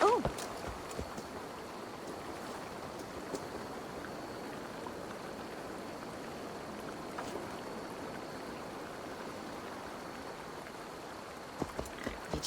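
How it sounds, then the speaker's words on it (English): A waterfall in the video game Assassin's Creed Valhalla gives a steady, quiet rushing wash of falling water throughout, with a few faint clicks and soft bumps on top. "Look at that beautiful waterfall."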